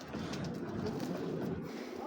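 Racer pigeons at a farm coo softly in a low, faint murmur, with a voice talking over them.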